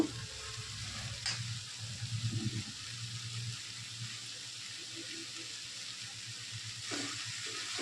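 Red amaranth greens (laal saag) are added to a hot pan for cooking, giving a soft, steady sizzle with some handling noise and a brief louder stretch early on.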